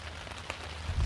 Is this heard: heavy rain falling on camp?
yes